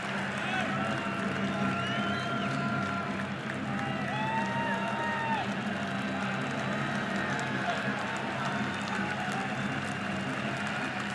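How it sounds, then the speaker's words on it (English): Texas Longhorns baseball home crowd at a game against Oklahoma, a steady roar of many fans with scattered whistles and shouts, under a broadcaster talking. "Longhorn crowd trying to build some emotion here."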